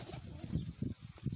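Pigeons coo softly in a low, murmuring rhythm, a few rounded calls rising and falling close by over quiet background hiss.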